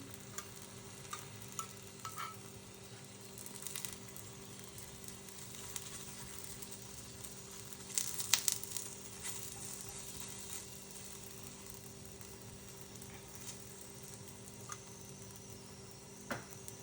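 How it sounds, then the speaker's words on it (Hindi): Aloo paratha cooking in ghee on a hot pan gives a steady, quiet sizzle throughout, with a few soft scraping pressing sounds and a brief louder crackle midway. "अब इसे दबा दबा कर हमें अच्छे से सेकना है दोनों तरफ"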